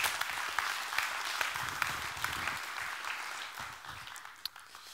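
An audience at a lecture and discussion evening claps warmly, a steady wash of many hands heard from a moderate distance that gradually thins toward the end.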